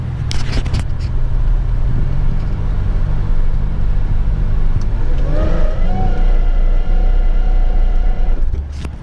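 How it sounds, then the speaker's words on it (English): A Pontiac Grand Prix GTP engine drones steadily at low pitch, then an odd-sounding supercharger whine builds midway as it accelerates hesitantly, close and loud, with a few clicks at the start. "the car won't accelerate. Well, it really accelerates, but it's really hesitant, and the supercharger sounds funny"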